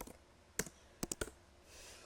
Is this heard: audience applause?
no